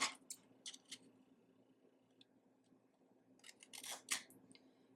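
Cutting cardboard for a cabinet built from Dollar Tree wood trays, quiet, close snips and scraping in two short clusters at the start and end, separated by near silence.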